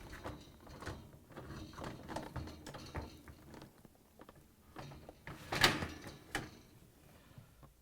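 A Whirlpool, KitchenAid or Maytag freezer door is lifted off its hinges and removed, giving a scattered run of faint clunks, knocks and rattles, with one sharper bump near the end.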